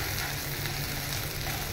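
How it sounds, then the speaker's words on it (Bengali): Boiled potato is stirred in a hot wok, giving a brief, constant soft sizzle with faint stirring underneath. "এবার আমি এই আলুটা দিয়ে দিলাম। আলুটা দিয়ে আমি একটু ভালো করে এই কড়াইয়ের মধ্যে একটু"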